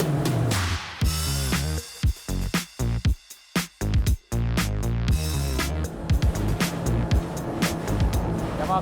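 Twin engines of a Ranieri Cayman 45.0 cruiser RIB roar as the throttle opens, a loud, harmonic drone that rises in pitch with brief drops and surges, mixed with rushing water and hull slaps over waves.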